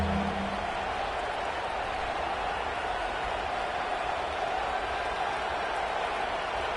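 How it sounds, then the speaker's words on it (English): Steady, dense roar of a home crowd cheering in a college football video game at Baton Rouge, a continuous wash of stadium noise filling the whole stretch without breaks. "How nice is it to have the home crowd going absolutely bananas?"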